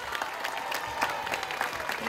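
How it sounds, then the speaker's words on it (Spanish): An audience at a public inauguration event applauds a guest, and steady clapping from a crowd fills the whole stretch at moderate loudness. "¡Un aplauso para él!"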